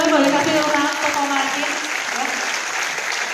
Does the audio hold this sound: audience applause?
yes